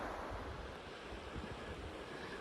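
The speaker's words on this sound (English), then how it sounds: "crossing the Verde River." Swift water of the Verde River rushes and churns around someone wading across a rocky crossing, a steady broadband wash with no voices.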